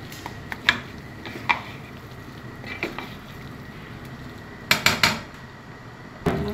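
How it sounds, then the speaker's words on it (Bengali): Parboiled polao rice being folded into cooked beef in a pot for biryani, with scattered metallic spoon clinks and scrapes against the pot and soft shuffling between them. "এখন পোলাও চালের সাথে মাংসটা মিশিয়ে দিতে হবে।"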